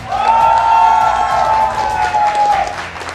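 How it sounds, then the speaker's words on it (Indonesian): Studio audience applause on an Indonesian political talk show, a dense, loud wash of crowd clapping and cheering, with a sustained tonal sound running through most of it and no clear speech. "Boleh tepuk tangannya?"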